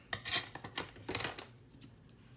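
Several quick snips of scissors cutting through lace, close and fairly quiet, then fading to a soft rustle.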